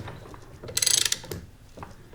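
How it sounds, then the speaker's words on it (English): A hand ratchet drives a bearing puller to pull the carrier bearing off a Dana 44 differential from a Jaguar XKE. It gives a quick run of sharp, close metallic clicks in one short burst, with quieter workshop handling noises before and after. "So I'm working the puller, taking the carrier bearing off this way."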